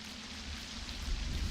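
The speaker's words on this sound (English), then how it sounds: "It's raining." Rain falling outside, a soft, steady patter and hiss that grows slightly louder with some low rumble toward the end, heard alone with no talking.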